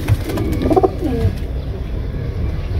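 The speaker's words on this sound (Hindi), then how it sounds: "ए सारे कबूतर है जी" Pigeons, including golden pigeons, coo in soft, low, throaty bursts close by, the calls bunched at the start and fading into quieter background noise.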